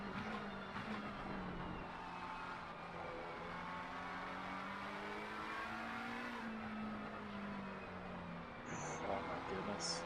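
Race cars run on track during an 8 Hours endurance race at the Nürburgring, a steady engine drone with rising and falling revs and brief higher squeals near the end, under a talking voice.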